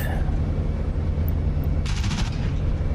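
A P-47 Thunderbolt fires its machine guns in the DCS flight simulator, one short rapid burst of gunfire over the loud, constant drone of the aircraft engine.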